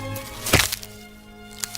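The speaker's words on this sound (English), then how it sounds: "The lesson is how to crack a nut." A chimpanzee strikes a nut with a tool, giving one sharp crack that rings briefly, followed by a quieter tap, against faint forest background.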